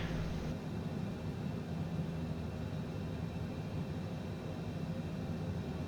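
Lockheed F-117 Nighthawk gliding at low speed in Flight Simulator 2020, a steady broadband airflow rush with a low droning hum underneath, constant and moderately loud with no talking.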